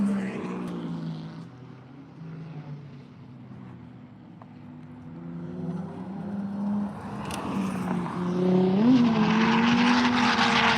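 Rally car drifting on shale and dirt at the Minami course during Autumn Matsuri, engine droning at a distance and then rising to a louder, revving whine as it nears.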